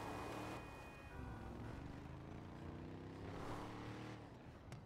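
A Vapid Slam Van, a car in GTA 5 Online, drives with a steady engine drone that rises and falls slightly in pitch over about five seconds, loud and continuous with no talking.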